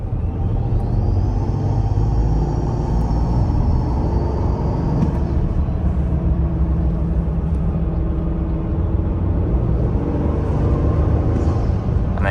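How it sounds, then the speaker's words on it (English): A Toyota Tundra fitted with AFE Momentum GT intakes accelerates on the road, its deep engine rumble topped by a rising high turbo whistle that holds for several seconds, then fades and returns later. "the turbo noise is definitely there"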